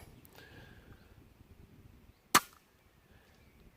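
A single sharp shot from a Weihrauch HW100T air rifle fitted with a moderator, short and fairly quiet, standing alone against a low background hiss.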